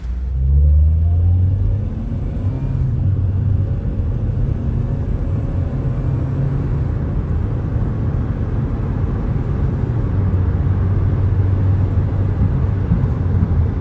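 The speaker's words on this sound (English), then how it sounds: "right now I'm gonna take it for a spin." A $600 Honda car that had gone into limp mode with code P2647, now repaired, driving with a steady close engine rumble that rises slightly as it pulls, alone without talk.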